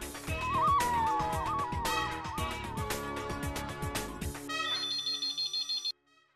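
A telephone ringtone plays during an outgoing call, a bright electronic melody pulsing loudly over rhythmic beats, then breaking into a run of short repeated tones before cutting off abruptly.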